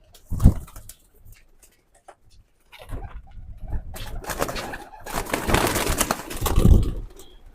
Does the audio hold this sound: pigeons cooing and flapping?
yes